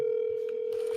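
A steady, unbroken telephone tone hums through a speakerphone, a single pure pitch held throughout with faint background noise.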